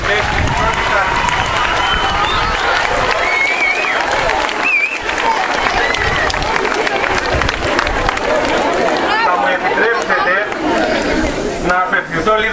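A school gathering warmly applauds newly arriving first-year students, with sustained crowd clapping that fills the space. Chatter and voices run through the applause.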